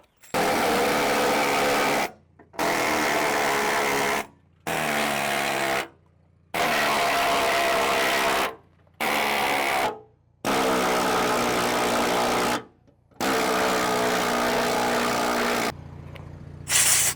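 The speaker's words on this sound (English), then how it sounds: "Gonna take the old little needle scaler next, run around all of that, chipping all the loose stuff off." A needle scaler chips loose paint and rust off a truck body, a loud buzzing rattle that comes in about seven bursts of one to three seconds, each followed by a short silence.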